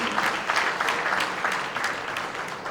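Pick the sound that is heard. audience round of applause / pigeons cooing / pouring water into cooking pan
audience round of applause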